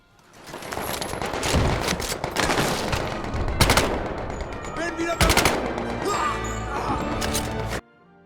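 Rapid gunfire in the VR shooter Medal of Honor: Above and Beyond, dense bursts of automatic shots with sharp impacts and metallic clinks, loud and continuous before stopping abruptly near the end.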